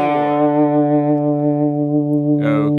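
Distorted electric guitar from a solo holds a single sustained power-chord tone with gentle wavering, then a brief rough scrape near the end, loud and close with no talking.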